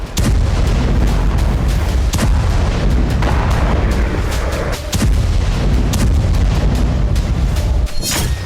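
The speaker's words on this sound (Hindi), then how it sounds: "ये रूस का फास्फोरस बम है जो बेहद घातक है।" Russian phosphorus bombs explode over ground in the war in Ukraine, a loud, nearly unbroken barrage of heavy booms and crackling blasts that overlap into a deep, continuous rumble.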